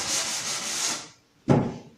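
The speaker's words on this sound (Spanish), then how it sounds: "te recomiendo lijar con una lija del número 120 para evitar que tengas superficies o bordes cortantes en tu pieza" Sandpaper of 120 grit rubs briskly across a routed wooden edge in two close strokes, a long steady scrape followed after a short pause by a sharp, louder start of another pass, with no voices.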